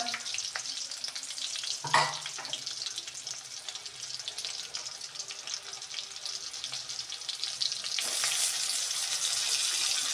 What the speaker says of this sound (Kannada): ಬದನೆಕಾಯಿ ಎಣ್ಗಾಯಿ ಪಲ್ಯ ಬೆಳ್ಳುಳ್ಳಿ ಒಗ್ಗರಣೆ ಹಾಕ್ತಾ ಇದ್ದು